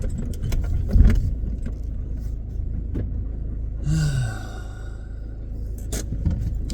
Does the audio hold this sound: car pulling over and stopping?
yes